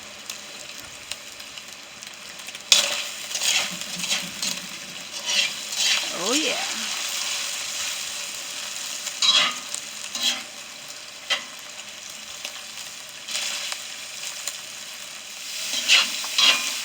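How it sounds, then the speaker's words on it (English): Steady frying sizzle of quesadillas and burritos over a fire on a homemade outdoor stove, with occasional stirring clatter, close by and continuous, while someone briefly talks over it. "Y'all hear the sizzle?"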